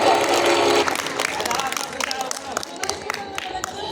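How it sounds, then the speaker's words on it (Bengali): Outdoor audience at a school book fair claps and cheers, a loud burst at first that thins into scattered claps and crowd murmur. "দর্শক বন্ধু তালি হবে জোরে একটা"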